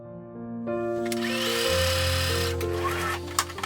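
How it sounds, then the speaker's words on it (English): A sewing machine runs a narrow double-folded hem seam on a fabric face mask, a steady close buzzing whir rising over light background music, with a few clicks at the end. "Fold this edge twice to the wrong side. Narrow like this. And then sew it with hem finish seam."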